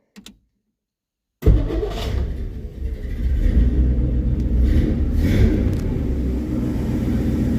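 A 1963 Studebaker Champ truck engine, just corrected for swapped plug wires, cranks and catches after a brief silence, then settles into a steady, loud, close rumbling idle that continues unbroken to the end.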